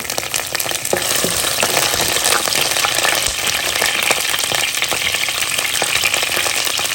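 Chana dal, peanuts, dried chili and curry leaves fry in a hot pan with a dense, steady sizzle and crackle, punctuated by occasional scrapes of stirring; no voices.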